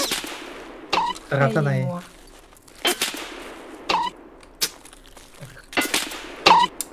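Gunfire in the video game Escape from Tarkov cracks out in sharp, separate shots spread over several seconds, fairly close, mixed with brief speech and a short burst of voice between the shots.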